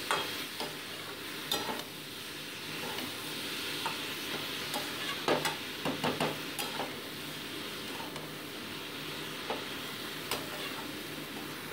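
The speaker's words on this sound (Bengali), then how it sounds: "ভালো মতো আলুর সাথে মোচাটাকে মোটামুটি 5 মিনিট আমি ভেজে নিচ্ছি" Boiled banana flower fries with potatoes in a pan, a quiet sizzle underneath repeated scraping stirs and occasional utensil clicks, close by and without talk.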